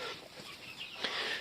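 Laying hens clucking on a small poultry farm, a few soft, close clucks over faint background noise in a brief moment.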